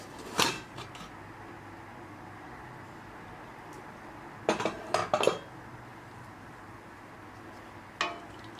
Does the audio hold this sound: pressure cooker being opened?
yes